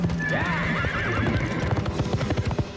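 A horse gives a loud, wavering whinny, then hooves clip-clop in a quickening rhythm, close and clear, with no one talking.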